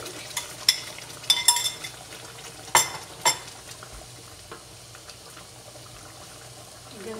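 Meat with garam masala being stirred in a pot, with scraping spoon strokes and a few sharp knocks early on over a steady low simmering sizzle that fades into a quieter bubbling.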